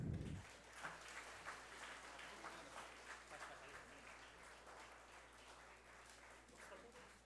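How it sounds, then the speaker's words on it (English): Steady applause from a crowd at a national conference, sustained clapping filling the room at moderate distance without pause. "Give them a big round of applause."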